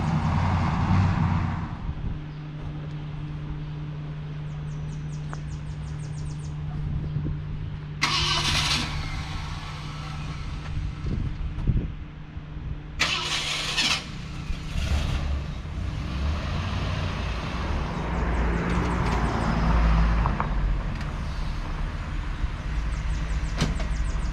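A 1966 Ford Galaxie 500 convertible engine cranks and catches with a crisp start, then settles into a steady mid-pitched rumble that carries on as the car moves, with a few sharper bursts of revving along the way.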